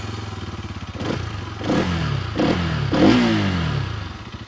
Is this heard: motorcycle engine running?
yes